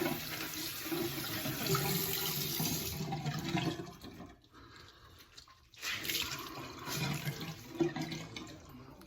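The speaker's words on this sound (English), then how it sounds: "I forgot to rinse my washcloth" A washcloth is rinsed under a running bathroom tap after a straight razor shave. Water gushes and splashes steadily nearby, stops briefly in the middle, then resumes with wringing and splashing.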